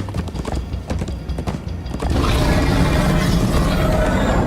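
Rapid hoofbeats clatter close by, a galloping Minecraft horse whose pounding becomes a dense, continuous rumble halfway through.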